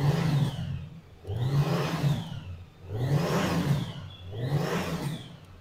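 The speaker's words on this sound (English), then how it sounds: "The engine of this motorcycle is so well made" A motorcycle engine revs up and eases off four times in a steady, even rhythm, each swell rising loudly then falling back to a lower drone.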